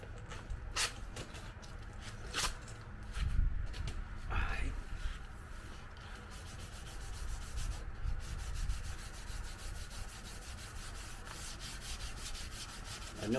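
Car paint being sanded by hand to remove pits, a steady close scraping rub in repeated strokes, with a few sharper scuffs early on and no talk over it.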